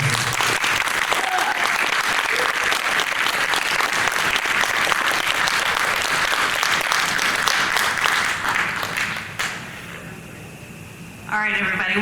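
Dense, loud applause from a horror host hall of fame induction audience fills most of the stretch, then drops sharply near the end before a brief voice cuts in.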